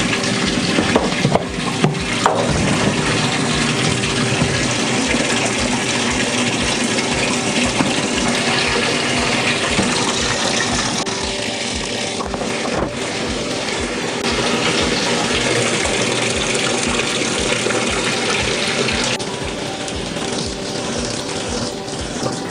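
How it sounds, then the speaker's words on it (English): Water rushes steadily into a washing machine filling for a cold coloured-wash load, a continuous broadband hiss with small sloshing fluctuations, close and constant throughout. "my machine is filling up with water"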